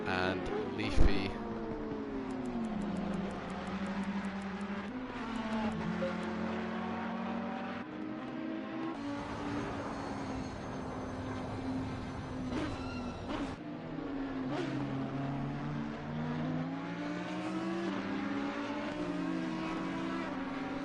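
Lexus and Ferrari race cars in a two-hour endurance race at Mount Panorama in a video game, engines droning steadily with rising and falling pitch as cars pass and shift gears, continuous throughout while a commentator talks over it.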